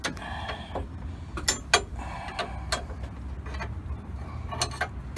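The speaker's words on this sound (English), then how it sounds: "we're going to tighten up the first bolt, which you see up here at the top" A bolt is tightened on an adjustable track bar of a 2000–2002 Dodge Ram 4x4, giving irregular sharp metallic clicks in short bursts with brief pauses, close by over a low background rumble.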